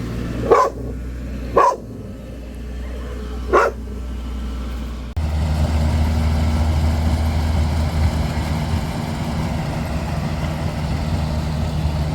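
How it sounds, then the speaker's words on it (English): A nervous dog held indoors during the harvest barks three times in the first few seconds, sharp and fairly close, before a steady combine harvester engine drone takes over and runs on. "I'm just holding the dog in here because he's a bit nervous of the combine."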